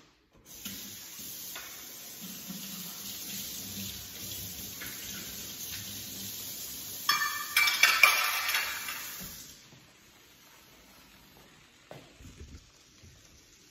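Water runs from a tap as a coffee cup gets rinsed in a sink, a steady hiss lasting several seconds and swelling into a louder splashing burst before it cuts off, leaving quiet with a few small clinks.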